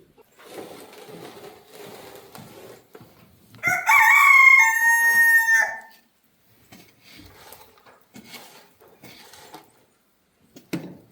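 Silkie rooster crowing once in a loud, drawn-out call with a few softer clucks and rustling around it, close by on a farm in the rain.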